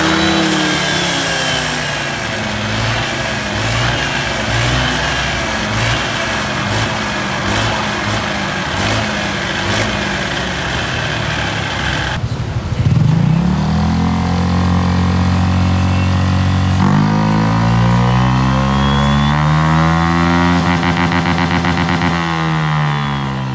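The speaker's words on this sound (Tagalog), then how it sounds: "marinig nyo ang tunay na tunog ng tambutso" A motorcycle engine idles with a pulsing, throaty exhaust, then revs up repeatedly, rising and falling in pitch, loud and close.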